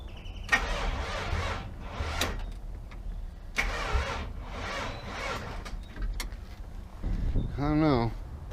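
A car starter motor cranks in repeated bursts after a third replacement starter is fitted, engaged with a screwdriver in place of an ignition key. Separate whirring attempts alternate with pauses, and someone speaks near the end.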